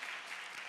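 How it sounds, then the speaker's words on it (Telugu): Applause from a church congregation welcoming a pastor at a Baptist church dedication, a brief, dense patter of many hands clapping at a steady level. "బిగ్ క్లాప్స్ అందరం కూడా చప్పట్లు కొడుతూ సార్ గారిని మనం ఆహ్వానిద్దాం"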